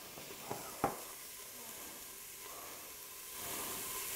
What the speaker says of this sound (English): I turned saute on so it's nice and hot. You can hear the sizzle.